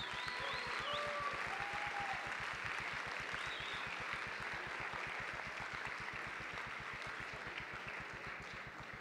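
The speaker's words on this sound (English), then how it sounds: "Let's give a huge round of applause for all the teams that had competed here this weekend" Sustained applause from a crowd at a high school robotics competition, steady and fairly loud throughout, with a few faint whistles or squeaks near the start.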